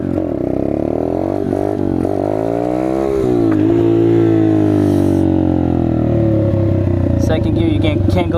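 A Chinese dirt bike's engine revs hard during wheelie practice, the pitch climbing and dipping in close, loud bursts, with a voice faintly present alongside.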